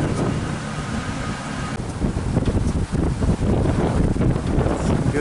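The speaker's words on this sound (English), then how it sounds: "The wind is very variable." Outdoors around a large vertical axis wind turbine, wind gusts roar steadily into the microphone with rough, buffeting variation in strength, heard close and loud without talk.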